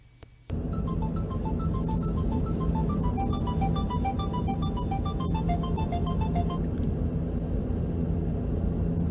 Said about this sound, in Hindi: खलील को फोन कर लेते हैं फिर।